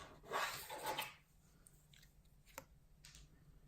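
Scissors snip paper for a small Tic Tac box craft, a short close crunching cut lasting under a second, then a few faint clicks in a quiet room.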